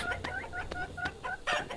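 Chicken clucking in the video game Meena 2, a close run of short repeated clucks in an uneven rhythm, fairly quiet and without talk.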